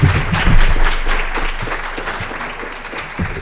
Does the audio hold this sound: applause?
yes